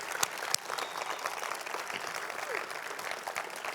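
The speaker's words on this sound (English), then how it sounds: "Can I get a round of applause for the people who organized this thing?" An audience at a software talk applauds the event's organizers, a steady patter of clapping at moderate distance with a few sharp louder claps near the start.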